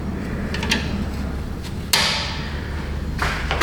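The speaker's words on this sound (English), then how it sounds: "we're gonna put a big old pair of vice grips up on here" A big pair of vice grips is clamped onto a car exhaust pipe in a garage, with a few light metallic clicks and then a sharp, loud snap-clunk, followed later by another metallic clack, close by.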